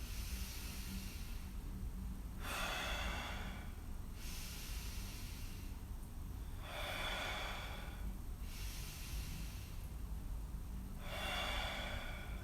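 Slow, deep breaths in through the nose and out through the mouth, close and quiet, repeating in a long rhythm of airy inhales and fuller, breathy exhales with no talking.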